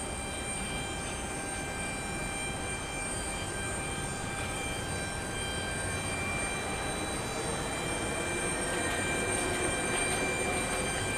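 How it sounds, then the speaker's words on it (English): A United Boeing 767 airliner taxis toward the runway for takeoff, a steady distant engine rumble and whine heard across a wide open airport with no talk. "We've got a United 767, which is making its way to the 15s for takeoff."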